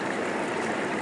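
Dartmoor river stream flowing over rocks, a steady broadband rush of water heard close and alone, constant without breaks.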